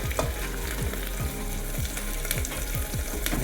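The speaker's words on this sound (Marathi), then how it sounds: "लगेच टमाटर पण टाकून घ्यायचं." Tomatoes hitting a pan of hot frying ginger-garlic paste and green chillies for a masala chicken biryani, giving a steady loud sizzle with repeated stirring scrapes in an even rhythm, no voices.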